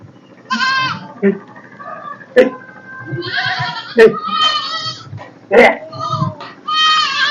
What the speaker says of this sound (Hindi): ये बकरी की विभिन्न नस्लों के मेल बक हैं